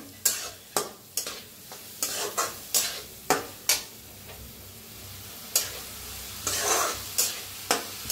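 Moth bean dal roasting in oil in a pan, stirred with a utensil: repeated sharp scraping strokes at an uneven rhythm over a low, steady sizzle, close and fairly loud, with no talk.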